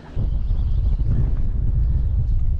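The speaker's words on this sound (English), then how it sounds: "Oh, that wind." Wind gusts across an open boat on the water during a summer morning of inshore fishing for redfish and trout, a loud, steady low rumble buffeting the microphone throughout, with no voices.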